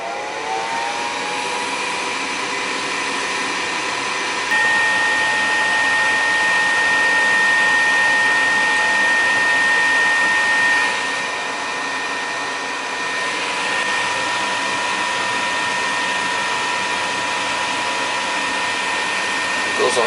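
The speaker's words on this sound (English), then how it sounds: "so we know that fan is working" A gas furnace's inducer fan motor runs after being newly replaced, a loud, steady, close whirring drone with a faint tonal whine that holds for about twenty seconds.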